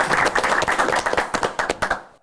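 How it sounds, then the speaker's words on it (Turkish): An audience applauds during a Turkish anti-bullying project presentation, a burst of hand claps that thins into a few separate claps and then stops. "Alkışlar gelsin."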